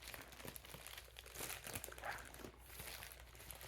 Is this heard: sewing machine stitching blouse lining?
no